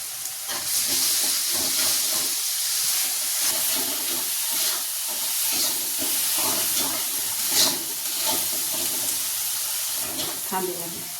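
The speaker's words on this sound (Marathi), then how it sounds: "चला आता ही भाजी धुवून घ्यायची" Running tap water splashes steadily as greens are washed in a home kitchen while cooking methi chicken, a continuous hissing flow lasting throughout with faint handling noises.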